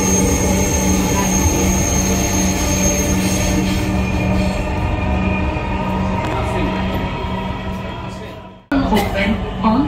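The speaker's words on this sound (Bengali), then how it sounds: "মানে ট্রেন এত দ্রুত টানে" A Dhaka metro rail train running between stations gives a loud, steady rumble of wheels and motors heard from inside the car, fading slightly before a sudden drop and renewed clatter near the end.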